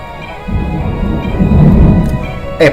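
Heavy rain pours down during a thunderstorm, with a loud rolling rumble of thunder swelling in the middle and a brief sharper crack near the end.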